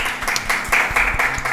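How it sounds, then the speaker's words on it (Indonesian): A small audience clapping on cue during a talk session, fairly close and loud, with distinct individual hand claps and louder spikes scattered through the short burst. "Tepuk tangan dulu dong."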